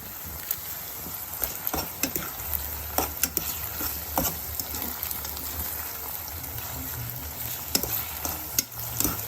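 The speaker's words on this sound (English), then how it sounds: "So now I'm putting my saltfish in." Saltfish frying in a pan for Jamaican ackee and saltfish, a steady close sizzle broken by sharp spoon-and-pan clatters and scraping as it is stirred, with no talking.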